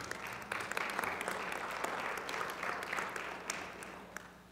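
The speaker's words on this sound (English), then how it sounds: "Jamie, you started clapping" Church audience clapping at a pastor's farewell service, a fairly quiet, even patter of many hands with occasional sharper claps standing out, fading slightly near the end.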